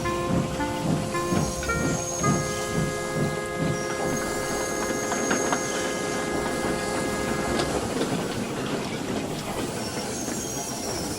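Steam train from the Trainz video game running through countryside with a faulty axle, a loud close rhythmic chuffing and clickety-clack of wheels, with sustained whistle-like tones over the first part before settling into a steady rumble.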